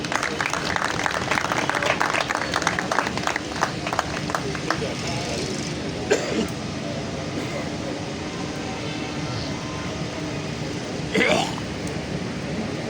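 Audience applause welcoming a performer on stage at a champion party, a dense rush of clapping over the first few seconds that thins into a noisy crowd murmur.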